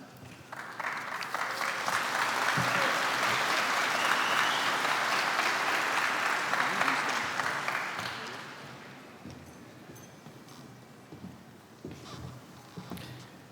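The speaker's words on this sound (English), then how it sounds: "just clap a little louder for those" Audience at a college graduation ceremony breaks into broad, sustained applause that swells and holds for several seconds, then thins to scattered claps and murmuring crowd noise in a large space.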